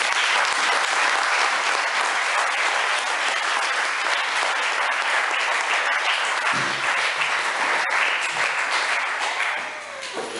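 A church congregation at a Sunday pastoral ordination service applauds loudly and steadily, dense clapping filling the space for the full stretch before easing slightly at the end.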